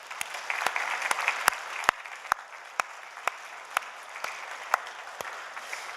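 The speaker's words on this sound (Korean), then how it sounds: "옆에 곳곳에 앉아있는 아이들 쳐다보시면서 박수 한번 할까요?" A church congregation at an early-morning prayer retreat applauds steadily for several seconds, a dense wash of clapping with occasional sharper individual claps standing out near the front.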